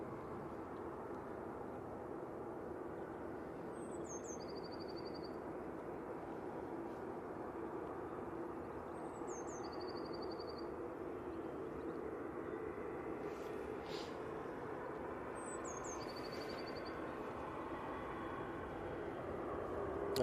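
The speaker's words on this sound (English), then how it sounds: "Aer Lingus A330-300 coming in from JFK" An Aer Lingus Airbus A330-300 airliner arriving from JFK comes in to land, its engines a steady, fairly distant broadband roar held at an even level, with faint birdlike chirps repeating above it.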